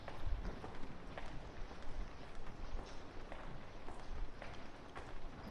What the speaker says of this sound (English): As you hear footsteps echoing through the halls